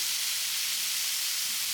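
Chopped tomato hitting hot oil in a pan while cooking a boiled egg fry, giving a steady, bright, continuous sizzle with no talk.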